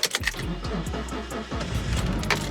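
An Acura RSX Type S engine, unstarted for about two months, cranks with a quick stuttering whir, then catches and settles into a steady low rumble close by.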